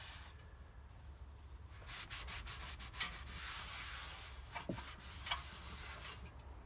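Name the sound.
cleaning old debris from transmission pan flange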